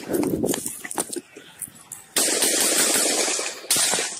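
A recording of rapid gunshots, with sharp bursts of shots standing out against a noisy background, followed by two loud, sustained bursts of harsh noise, with someone talking in between.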